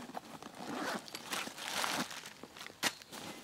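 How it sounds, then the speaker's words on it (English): A two-way zipper on a MultiCam medium duffle bag is pulled in quick, raspy strokes, close and fairly loud, with rustling fabric and one sharp tick near the end. "You have a two-way zipper."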